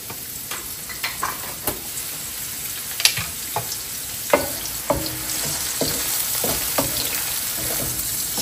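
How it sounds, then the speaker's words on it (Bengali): Chopped onions and tomatoes fry in oil in a kadai, giving a continuous sizzle broken by sharp spatula knocks and stirring scrapes. The cooking sits close, with no talking. "আমি অলরেডি কড়াইতে তেল দিয়ে দিয়েছি। এখন এতে দিয়ে দিচ্ছি বেশ কিছু পেঁয়াজ কুচি"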